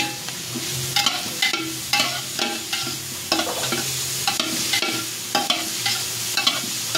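Garlic and ginger sauté in a hot pan, giving a steady close sizzle broken by repeated scraping and clattering stirs at an uneven rhythm, with no one talking.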